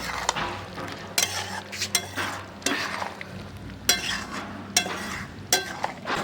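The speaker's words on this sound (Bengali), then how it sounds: "তো গরম মশলা বাটা দিয়ে দিলাম, আর একটুখানি মশলা বাটা বেশি ব্যবহার করিনি, তাহলে আসল গন্ধ না চলে যায়। এবারে নেড়ে দেবো বসে।" Chicken curry with ground garam masala paste stirred in a pot over a wood fire, a steady low sizzle broken by repeated sharp scrapes and clinks of a metal spoon against the pot, close and without speech.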